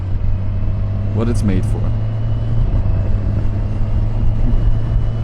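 Kawasaki Versys 1100 motorcycle cruising on a tour, its steady engine drone and wind rumble running throughout, with a brief rising rev or shift near the start and someone talking over it.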